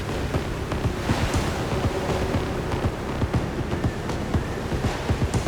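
Wind-whipped Atlantic swell rolling onto the rocky Orkney coast, a steady, broad roar of surf and gusting wind with no voices.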